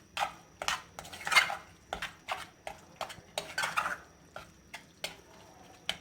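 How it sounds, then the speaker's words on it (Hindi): Grated carrot halwa being stirred and roasted in a pan over a high flame, with repeated scraping and clinking strokes of a spoon against the metal at an irregular rhythm, close and moderately loud. "और इसको हम लोग भून लेंगे थोड़ा फ्लेम तेज करके।"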